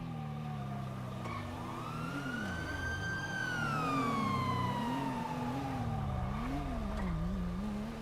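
A police patrol car siren from a roleplay game wails in long rising and falling sweeps over steady engine drone, loud and close, with no talking.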